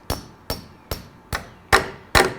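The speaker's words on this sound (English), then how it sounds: "pound it in with a hammer" Six evenly spaced hammer strikes drive a metal sleeve anchor into concrete for a deck post, each a sharp, close metallic clang that rings briefly, the last two louder, with no talking.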